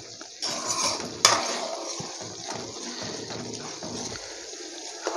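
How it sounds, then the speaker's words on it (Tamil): Homemade ghee being stirred in a pan with a metal spoon, scraping and clinking against the pan over a bubbling, sizzling bed, with one sharper clank early on. "கை எடுக்காமல் கிளறிக்கிட்டே இருங்க"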